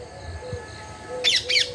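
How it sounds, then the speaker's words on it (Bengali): Parrots squawk and chirp from trees on wooded ground beside a pond at a resort in Tarapith, with a few sharp, fairly close calls bunched near the end over a quiet background. "দেখো ওখানে গাছের মধ্যে টিয়া পাখিও রয়েছে"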